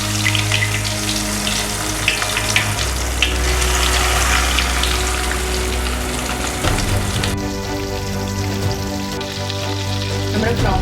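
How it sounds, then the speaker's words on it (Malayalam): Battered prawns deep frying in hot oil give a steady, close bubbling crackle that continues without a break, with low tonal hums and a shift in the background partway through. "നമുക്ക് നമ്മുടെ പ്രൗൺസിനെ ഫ്രൈ ചെയ്യാം."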